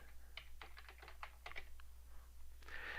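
Quiet keyboard typing of a short phrase: a run of light, evenly paced clicks close by over a steady low electrical hum, with no voices.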